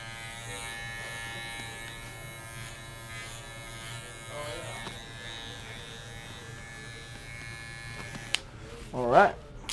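An FXONE hair clipper buzzes steadily through a haircut, a close, even electric hum holding most of the time before a brief louder burst of handling noise near the end; no words are spoken.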